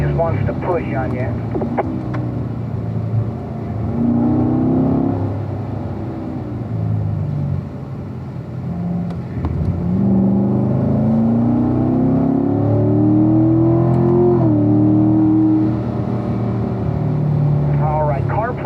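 2017 Corvette Stingray C7 Z51 engine on the Spring Mountain race track, a loud, continuous drone that rises and falls as the car accelerates and brakes, with an instructor talking over it throughout.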